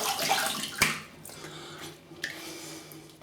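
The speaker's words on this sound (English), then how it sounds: "Just have a quick rinse." A shaving razor is rinsed under running tap water, a near splash and trickle that fades into quieter dripping and a few small clinks against the sink.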